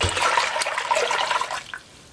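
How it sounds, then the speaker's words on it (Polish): About two litres of water pour into a cooking pot over chicken, a loud splashing gush that runs for under two seconds before cutting off to quiet. "Zalewam około 2 litrów wody."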